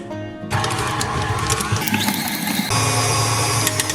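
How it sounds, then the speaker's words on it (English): A stand mixer creams cream cheese and butter at medium speed, whirring into a steady loud mechanical drone after a brief quiet start, with rhythmic beating and a slight shift in tone partway through; no voices. "we got our cream cheese and our butter in our stand mixer, and we're gonna cream this together on about medium speed for about 5 minutes"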